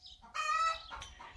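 Hens in a large hen house built for about thirty birds give a short run of clucks and a loud, drawn-out squawking call, close by with no talk.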